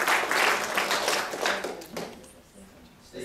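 Audience applause at a university Three Minute Thesis competition starts strong with dense clapping, then thins and fades over a few seconds, with voices audible underneath.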